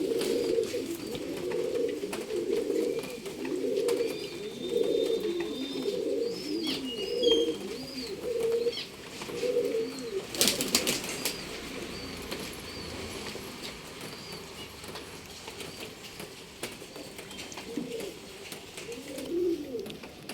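Soft repeated cooing of a Guldar female pigeon close by, steady rhythmic coos under faint background noise, with a brief burst of wing flapping midway.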